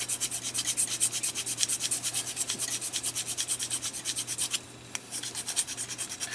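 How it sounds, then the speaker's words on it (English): A 3D printed plastic part for an FDM filament loader is filed down by hand under tension, giving steady, rhythmic rasping strokes up close, loud and even with a brief pause near the end. "I'll just file that down while I have it under tension."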